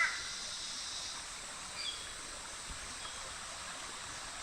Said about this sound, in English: this is where another branch of the Mooloola River flows down into it